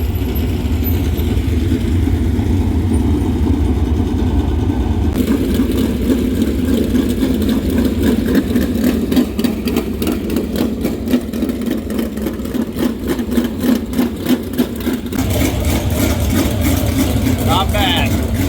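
Race car engines idle and rumble during warm-up at Swainsboro Raceway at dusk, a steady low drone with occasional revs and rhythmic pulsing, heard close by with voices talking in the background.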